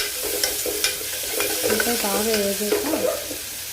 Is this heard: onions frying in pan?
yes